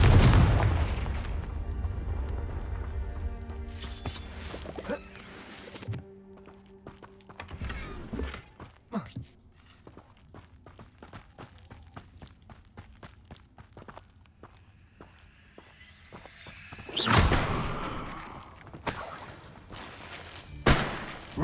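Confringo and Bombarda spell blasts in the video game Hogwarts Legacy, heard as a few loud booming bursts spread across the scene, with shuffling footsteps and scattered impacts between them and a final strong blast near the end.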